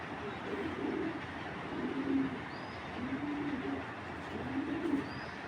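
An old-type army breed female tournament pigeon gives about four soft, rhythmic coos, evenly spaced against a faint, steady background.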